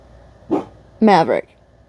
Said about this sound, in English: he's moved on to barking out there